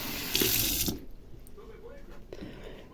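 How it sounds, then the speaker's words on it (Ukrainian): Tap water runs loudly and pours into a cooking pot over meat seasoned with bay leaf, salt and black pepper, a steady splashing gush that cuts off after about a second, leaving faint kitchen clatter. "І тепер наливаю чимало води, щоб покрило все м'ясо."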